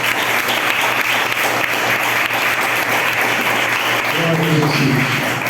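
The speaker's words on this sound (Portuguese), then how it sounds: "Será que você pode dar um forte aplauso ao Senhor?" Strong applause from a church congregation, loud continuous clapping with voices and a sung or shouted tone rising near the end.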